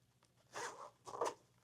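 A zipper on a toiletry bag pulled open in two quick, close strokes, the second sharper and louder, in a quiet room with no talking.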